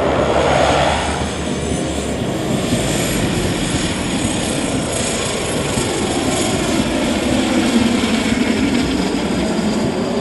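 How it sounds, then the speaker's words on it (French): A propeller airplane lands on the dirt airstrip of Simon Kimbangu aerodrome, its engine a loud, close, continuous roar with a steady drone that stays strong throughout. "Il atterrit sur la piste en terre battue de l'aérodrome Simo Kimbangu après 22"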